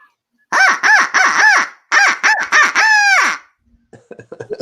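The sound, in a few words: owl call device being blown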